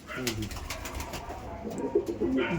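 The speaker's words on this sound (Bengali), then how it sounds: "দেখুন আপনার জন্য আন্ধ্রা পায়রা দেখাচ্ছি" Andhra pigeons, a male and an aggressive female, coo in low throaty bursts near at hand, interspersed with rustling and a person speaking.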